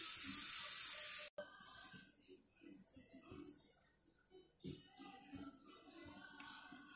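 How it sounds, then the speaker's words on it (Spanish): Two cups of water pour into a blender for making juice, a brief bright splashing gush lasting about a second before it cuts off, followed by faint handling noises in a quiet kitchen. "le vamos a poner 2 tazas de agua."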